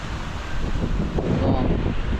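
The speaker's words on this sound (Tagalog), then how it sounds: "Pasok problema, lakas ng hangin." Strong wind buffets the microphone with a low, rumbling roar while shore casting on the coast, steady and loud throughout with gusty surges.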